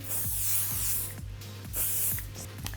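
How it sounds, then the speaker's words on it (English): Bursts of hairspray from an aerosol can onto backcombed, sectioned hair during styling, two longer hissing sprays close to the mic with a steady low hum underneath. "I'm just going to give this a quick dose of hairspray."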